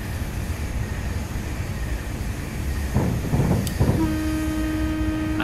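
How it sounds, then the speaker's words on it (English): A Virgin train rushes past in Train Simulator 2019, a steady rail rumble swelling into a loud burst of passing noise, followed by a sustained tonal hum as it carries on by, with no talking. "there goes the Virgin trains flying past."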